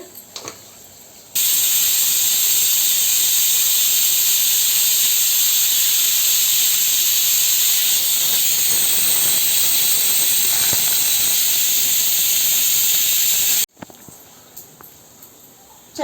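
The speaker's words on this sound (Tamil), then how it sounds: "எண்ணெய் ஊற்றிருக்கேன் கடுகு உளுத்தம்பருப்பு" Mustard seeds and urad dal hit hot oil for a chutney tempering and burst into a loud, steady, hissing sizzle that holds close and even for about twelve seconds before cutting off abruptly.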